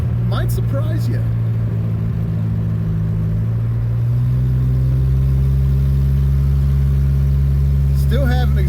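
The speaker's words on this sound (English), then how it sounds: "the car runs good enough that it might surprise you" A Chevrolet Chevette with a split exhaust collector runs steadily while driving on back roads, a constant low engine drone that swells slightly in pitch partway through, with brief speech-like sounds over it.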